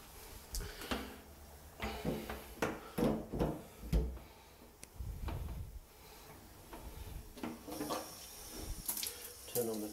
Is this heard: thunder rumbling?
no